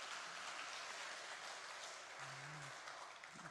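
A church congregation applauding, a faint, distant, even patter of many hands clapping that holds steady for a few seconds.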